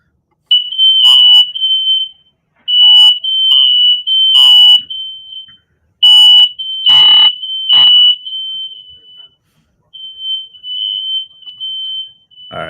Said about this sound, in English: The volume's annoying, man. I don't need to hear fire alarms.